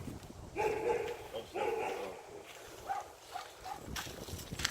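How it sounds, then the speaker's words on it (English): A dog barks a few times at a distance, short yips and woofs spaced apart against quiet outdoor background. "there's a big dog over there"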